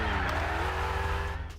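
A car skids in the mobile driving game Car Parking Multiplayer, with a loud, sustained tire squeal over a steady engine drone that tapers off near the end.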